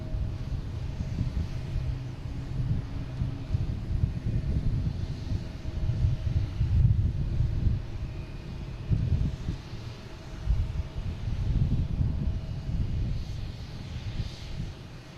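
An Airbus A220 airliner taking off at Boston Logan, a steady low engine roar that swells and ebbs at moderate distance, with wind rumble and no talk.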